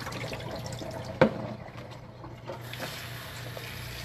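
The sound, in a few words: getting water, water being poured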